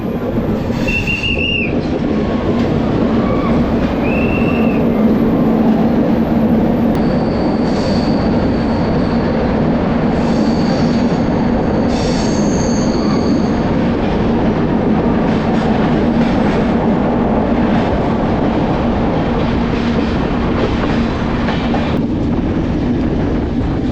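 The Vistadome train runs from Vizag to Araku through hills, waterfalls and many tunnels, giving a loud continuous rumble with wheel clatter and occasional high squeals from the wheels on curves throughout.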